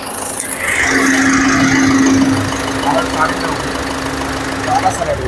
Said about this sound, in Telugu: ఇంజన్ అయితే చాలా అంటే చాలా సైలెంట్గా ఉంది.